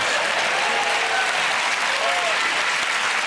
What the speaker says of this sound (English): No, round of applause.